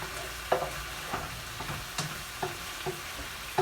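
Steak sizzles steadily in a pan, with a soft continuous frying hiss broken by several sharp taps and scrapes as the meat is stirred or turned.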